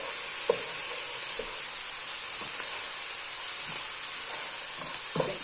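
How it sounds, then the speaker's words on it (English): Vegetables for a spicy sweet and sour vegetable soup fry in a pot with a steady hiss, broken by several soft scraping stirs of a spoon spaced through the stretch. "When your vegetables have softened, I can feel mine starting to fry."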